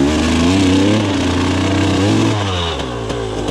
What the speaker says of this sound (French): le moteur il va serrer, il est plein de flotte.